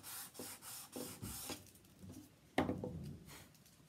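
Sandpaper worked back and forth in the groove of an old wooden picture frame, giving quiet, close, rhythmic rasping strokes with one firmer scrape near the end.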